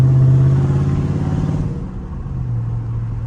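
A Dodge Charger Scat Pack V8 engine hums steadily at a low, even pitch while cruising, loud and close, easing off slightly partway through before settling back into a cruising drone.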